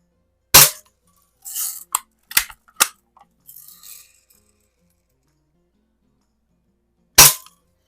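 A 1930s Daisy King BB gun, recently repaired, fires at a can outdoors: sharp close snaps, one early and another several seconds later, with smaller clicks, clinks and rattles of handling and pellets between them.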